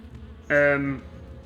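Bees buzzing in the video game Shadow of Rome, a single loud harmonic drone lasting about half a second that swells suddenly and then fades, set over a low steady game background.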